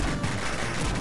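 Weapon fire from the Raiden arcade shoot-'em-up, a dense continuous electronic barrage of shots that fills the brief moment at steady loudness.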